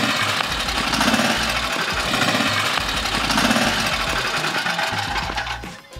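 The small engine of a restored golf cart runs steadily up close, a rough chugging putter that swells and dips slightly in level before cutting off near the end, with no talk.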